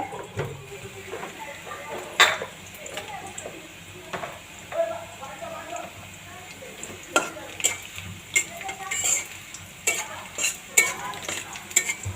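Onions browning in a pan for children's noodles sizzle steadily while a spoon stirs and scrapes, giving repeated sharp clicks and clatters against the metal throughout, close and fairly loud.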